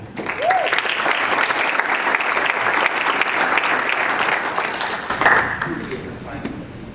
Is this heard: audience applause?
yes